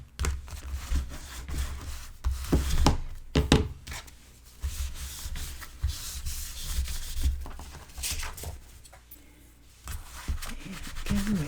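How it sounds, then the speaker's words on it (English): A small burnishing tool rubs paper inside the pockets of a mini album, giving close, scratchy, irregular strokes that rise and fall continuously. "my favorite little tool for burnishing inside pockets"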